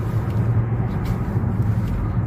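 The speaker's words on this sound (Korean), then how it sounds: "변속 되는지도 모르고 쭉쭉 속도만 나오고 있습니다" A Renault Samsung SM7 car accelerates smoothly on the road, heard from inside as a steady low engine and road rumble with no obvious gear change.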